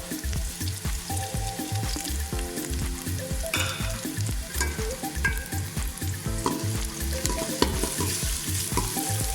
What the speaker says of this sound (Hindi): लहसुन की जब तक खुशबू ना आ जाए तब तक भुनेंगे